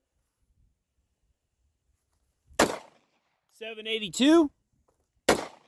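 Federal Train and Protect .45 ACP jacketed hollow points fired from someone's officer-model pistol: two sharp, loud single gunshots a few seconds apart, with someone speaking briefly between them.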